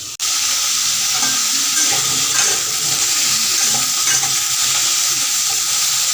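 Cumin seeds sizzle in hot sunflower oil in a home kitchen pan, a loud continuous crackling fry that starts abruptly and holds steady throughout, with no talking.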